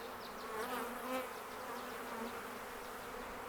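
A dense buzz of many bees, close and steady, with individual insects swelling louder as they pass nearby.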